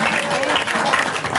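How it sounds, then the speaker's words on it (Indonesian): Audience applause for the young people at a Balinese bondres comedy performance at Pura Dalem Beneng, a dense, steady wash of clapping at close range with some voices mixed in throughout. "Tepuk tangan untuk pemuda kita."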